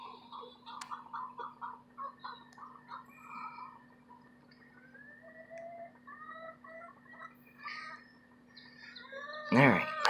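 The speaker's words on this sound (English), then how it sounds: "Got your little chicken friends over there." Small backyard chickens clucking in a series of short, repeated calls at moderate distance, with a steady low hum underneath and a louder bird call near the end.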